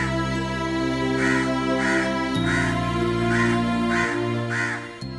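A crow caws six times in a steady rhythm over a sustained music backing, the calls clear and fairly close.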